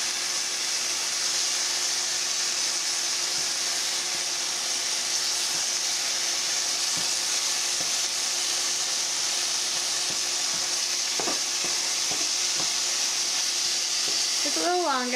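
A three-egg omelette fries in a pan with a steady, even sizzling hiss that runs unbroken, with a few faint taps and a brief voice near the end.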